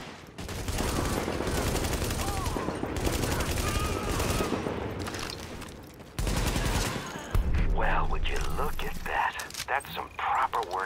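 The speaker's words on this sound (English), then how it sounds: "Warning, supply is taking fire." Sustained heavy gunfire from Tom Clancy's The Division on PC, loud and continuous bursts with overlapping automatic fire and a voice talking through it, shifting into sharper scattered shots near the end.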